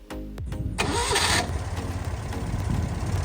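A classic Citroën 2CV's small engine, just given a tappet adjustment, new engine mounts and a timing fix, cranks briefly and fires up at once, settling into a steady, close idle that runs on without talk.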